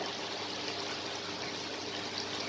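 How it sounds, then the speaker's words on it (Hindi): Mutton stock (yakhni) for pulao poured into a cooking pot, a steady continuous splashing stream that stays loud and even throughout, with no voices. "3 गिलास में हमने 6 गिलास यखनी के डाल दिए।"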